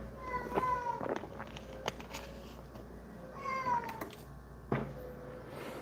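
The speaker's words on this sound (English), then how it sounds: "If you hear sounds, it's my cat." A cat meows several times, drawn-out and wavering, over a quiet room hum with a few soft knocks in between.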